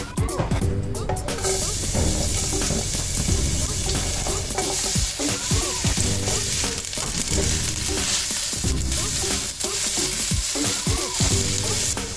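Garlic and onion sweating in olive oil, aromatics for a gluten- and dairy-free lasagna, give a steady loud sizzle with repeated stirring scrapes and clatters throughout, over a dense busy background that may hold music.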